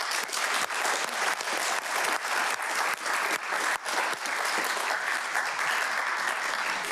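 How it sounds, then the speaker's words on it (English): Sustained applause from the audience at a Murrieta city council meeting, honoring volunteers: a steady, even roar of many hands clapping throughout, moderately loud with a few sharper individual claps standing out. "Give them another round of applause."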